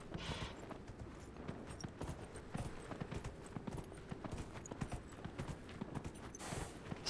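Steady horse hoofbeats in Dragon Age: Inquisition clop along at a walking pace, close and even, with faint ambient noise underneath and no talking.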